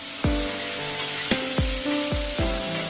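Chopped tomatoes drop into a hot pan of oil with green chillies for besan kadhi, setting off a steady loud sizzle with several sharp thuds and spits as pieces land.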